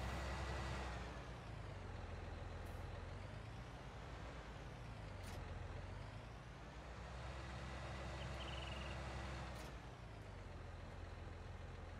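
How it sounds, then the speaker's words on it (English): In a farming video game, a tractor moves trailers: a faint, steady engine drone rises and falls in pitch, broken by three short hissing bursts like air brakes releasing. "First, let's move these trailers out of the way."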